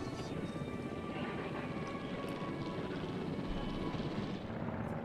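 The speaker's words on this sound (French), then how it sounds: "Hélicoptère. Supplémentaire ajouté." A helicopter in the video game Jurassic World Evolution gives off a steady, faint rotor and engine drone that holds unbroken throughout, with no talk over it.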